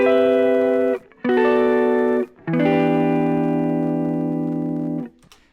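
A dark, filtered synth tone with light drive, built in Ableton Live, plays three sustained held chords with short gaps between them, loud and alone with no talking.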